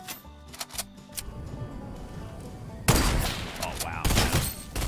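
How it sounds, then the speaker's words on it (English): Gunfire in Fortnite Chapter 2: scattered quieter shots, then from about the midpoint a loud, dense stream of rapid bursts that runs almost continuously to the end. "your gun is still firing"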